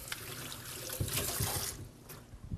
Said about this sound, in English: wash my hands a second